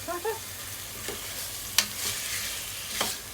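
Chicken breast sizzles and crackles in a hot pan while a utensil scrapes and stirs in a few brief strokes, close and fairly quiet.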